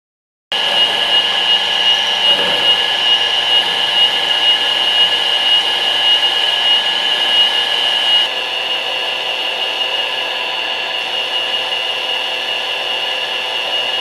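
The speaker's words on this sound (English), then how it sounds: "I'm going to use a little bit of sandpaper over a paint mixing stick." Sandpaper wrapped over a paint mixing stick sands part of a 1911 Commander .45 ACP pistol build, making a loud, steady, continuous abrasive rasp with no talk.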